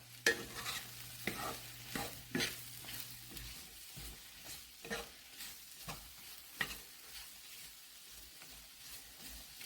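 Salted mushrooms sautéing in a pan for chicken stuffed with mushrooms, sun-dried tomatoes and cheddar, a soft steady sizzle broken by repeated spatula scrapes and stirring knocks, close and fairly quiet, no talking.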